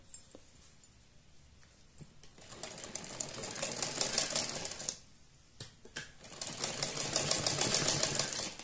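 A sewing machine stitches a sleeve onto a baby dress in two steady runs of rapid mechanical whirring and needle chatter, separated by a short pause, close up and with no voices.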